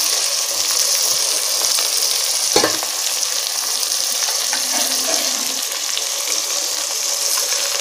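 Brinjal sautéing in a pan with turmeric powder for brinjal rice, a dense, continuous close sizzle with a brief knock partway through and faint scraping underneath.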